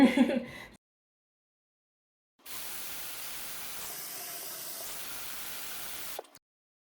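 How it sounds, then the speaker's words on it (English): Tap water runs into a cooking pot being filled for boiling potatoes, a steady rushing hiss lasting about four seconds after a short pause, with a brief sound just before it. "we're just going to fill this pot up with water and let it boil"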